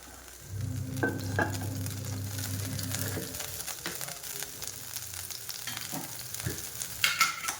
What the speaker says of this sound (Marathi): त्यानंतर तेल चांगलं तापलं आहे त्यामध्ये मी थोडी मोहरी घातली आहे मोहरी तडतडली की आपल्याला जिरे घालून घ्यायचे आहेत